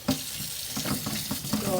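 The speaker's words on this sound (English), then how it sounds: "here I come back washing my ginger" Fresh ginger rinsed under a running kitchen tap, water splashing and spattering against the root and sink in a brief, close, fairly loud burst with uneven rubbing surges.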